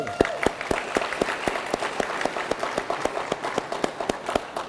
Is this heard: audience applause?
yes